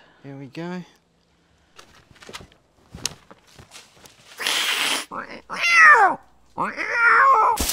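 A cat meows and caterwauls in several rising, wavering cries, loud and close, mixed with people talking, some thumps and footsteps.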